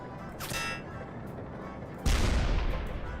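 A tank fires its cannon at a Zeppelin in a strategy video game, one loud booming blast partway through, preceded by quieter game ambience and a brief voice.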